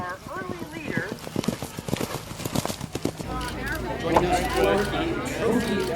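Racehorses in a point-to-point race pound past with a rapid drumming of hooves, building into a dense rumble under an excited commentator's voice and crowd murmur.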